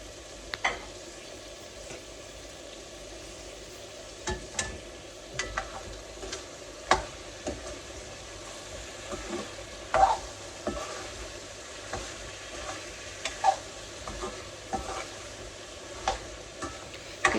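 Two chopped tomatoes frying in oil in a pan for Hyderabadi chicken curry, a quiet low sizzle with intermittent sharp ticks and clinks of a utensil against the pan, no voices.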